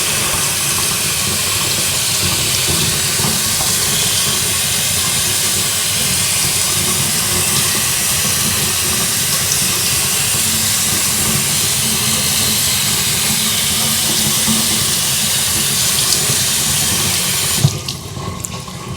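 Tap water runs steadily and loudly while an ITG foam air filter is rinsed of dirt under a warm stream, a continuous broad hiss that holds for most of the stretch before breaking off near the end.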